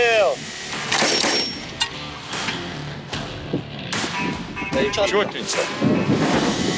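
Heavy booming blasts of artillery fire ring out several times at a military training range, loud and close, with shouting voices and clatter between the shots.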